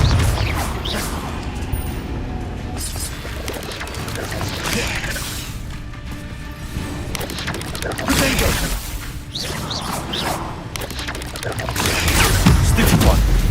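Confringo blasting spells cast again and again during a dark-wizard Slytherin run in the Hogwarts Legacy video game, a chaotic run of loud blasts and crashes that rises toward the end.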